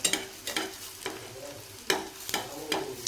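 Aloo snacks cooking in oil in a pan, with a soft sizzle under intermittent scraping and stirring strokes, close and moderately quiet, no speech.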